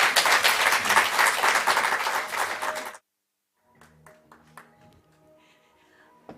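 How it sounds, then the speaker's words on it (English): An event audience applauds with dense, loud clapping for about three seconds, then it cuts off abruptly, leaving sparse faint taps and small sounds. "Can we give Max another round of applause?"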